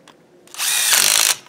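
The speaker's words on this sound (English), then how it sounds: "I really love these little power tools like this." A small handheld power tool, likely a drill, used during a front wheel bearing change on a 2008 Chevrolet Aveo, spins up after a brief quiet moment and whirs loudly and steadily for under a second before stopping.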